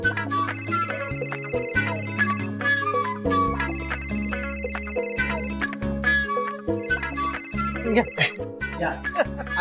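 A telephone rings repeatedly in a domestic scene from a Marathi TV drama, in a patterned electronic ringtone sounding in bursts over background music.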